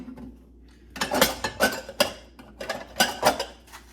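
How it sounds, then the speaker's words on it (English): A dish scrubbed by hand during dishwashing: a dozen quick, close scraping and clinking strokes in an irregular rhythm, dishes and cutlery knocking against each other after a brief quiet start. "We got to make sure we scrub really, really good here"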